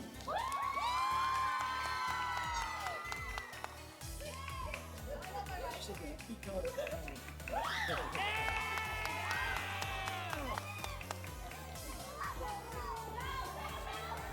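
A crowd at a youth cosplay contest cheers and whoops, with children's excited high voices shrieking over a steady rhythmic beat of background music, loud and sustained with voices rising and falling.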